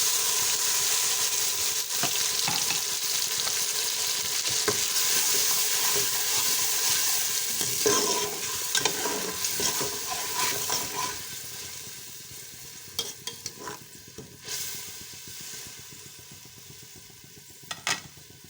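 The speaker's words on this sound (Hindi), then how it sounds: "अब मैं इसमें 2 चम्मच लहसुन के और 2 ही अदरक के डालूँगी।" Garlic ginger paste fries and sizzles steadily in a pan with browned onions for goat head curry, stirred with intermittent scraping, loud and close, with no talking.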